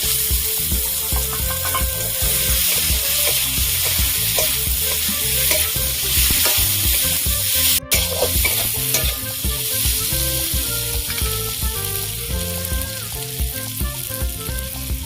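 Potatoes sizzle loudly in hot oil as they are stirred with turmeric and chili powder, a dense continuous frying hiss broken by scraping stir strokes, with one brief cut midway and no talking.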